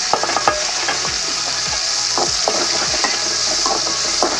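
Onion and green chilies sauté in a pan for a potato kurma, sizzling steadily under frequent, quick scraping stirs from a spoon close by. No voices are heard.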